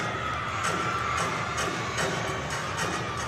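A college gymnastics team cheers a teammate through her floor routine at a meet between Southern Utah and Iowa State, with a steady crowd roar throughout and sharper shouts rising above it.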